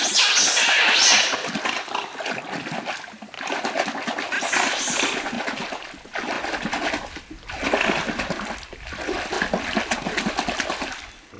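Water slapped and splashed by hand from a canoe on an Amazon river to mimic a distressed fish, loud, close bursts of splashing and sloshing in irregular waves with brief pauses between them.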